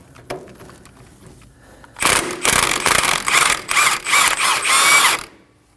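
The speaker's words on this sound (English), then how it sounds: "And to get the knot out, I'm gonna use a 24mm socket to remove it." A ratchet fitted with a 24mm socket works loose an inner tie rod nut on a 2017-2024 Nissan Armada, giving a loud, close run of rapid clicking bursts after a quiet lead-in.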